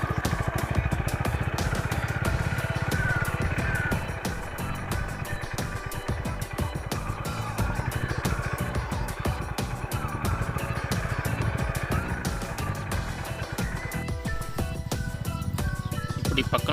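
A Honda Highness CB 350 motorcycle rides off-road, its engine rumbling steadily and loudly throughout, with rattles and clatter over rough ground and the tone shifting near the end.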